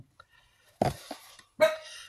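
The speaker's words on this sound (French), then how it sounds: "il y a un chien qui a fait" A dog in a quiet indoor room gives two or three sharp, close barks in quick succession, with silence between them.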